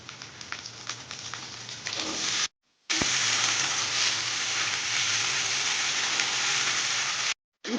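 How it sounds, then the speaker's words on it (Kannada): Chopped okra and onions frying in hot oil, a steady loud sizzle and crackle close by, cut by a sudden silence partway through before the sizzling resumes. "200 ಗ್ರಾಂ ಕಟ್ ಮಾಡಿಕೊಂಡಿರುವಂತಹ ಬೆಂಡೆಕಾಯನ್ನು ಚೆನ್ನಾಗಿ ಇದರಲ್ಲಿ ಫ್ರೈ ಮಾಡಿಕೊಳ್ಳಿ"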